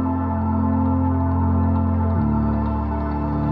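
Layered synth pad, guitar and crystal effect, a sustained, loud, steady chord that shifts to a new harmony partway through, with a faint shimmering top and no voices.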